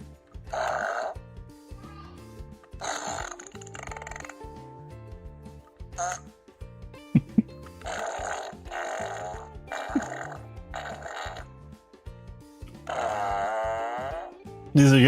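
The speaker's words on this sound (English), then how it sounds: "Best fart machine I own." A toy fart machine plays a run of cartoonish fart noises, loud and close, in separate bursts of varying length with short gaps between them, some buzzy and some wavering.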